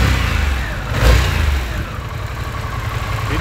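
A Harley-Davidson Pan America motorcycle with its stock homologated exhaust runs steadily close by, its engine note swelling in a brief rev before settling back to an even idle-like drone.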